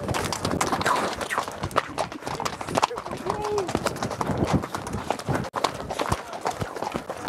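Horse hooves clip-clop and stamp as a rider makes the horse dance at a village event, steady close hoofbeats running throughout under nearly constant shouting and talk from people nearby.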